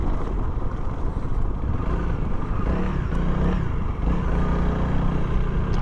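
A Honda CRF300L dual sport motorcycle rides a trail at a brisk pace, its engine a steady, rough mid-pitched drone mixed with rumble and clatter throughout, recorded close and fairly loud.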